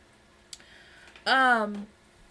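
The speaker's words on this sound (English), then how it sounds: "Well, hey, little kitty." A single short, clear cat meow that falls in pitch, close by, after a faint click in an otherwise quiet room.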